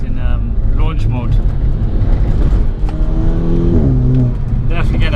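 A 350bhp Volkswagen GTI in launch mode accelerating hard, engine droning and rising through slurred gear changes, heard loud from inside the car under someone talking.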